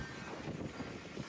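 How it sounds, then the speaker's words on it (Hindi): A strong, cold wind blows outdoors where trees are swaying, making a steady, buffeting rush across the microphone with no voices. "देखिए दोस्तों इतनी तेज हवा चल रही है, बहुत तेज,"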